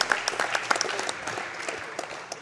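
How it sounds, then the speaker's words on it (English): An audience claps together in a live gaming-marathon event hall, a burst of scattered, fairly close handclaps that thins out over a couple of seconds with faint crowd murmur. "Let's give it up for Big moms, clap for my mum."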